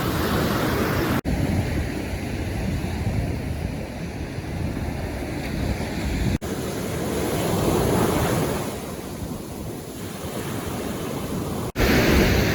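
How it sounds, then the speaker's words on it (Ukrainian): Strong Black Sea waves at a beach in Chornomorsk roar and surge continuously, swelling and receding, with gusty wind buffeting the microphone. "Хвилі такі сьогодні сильні."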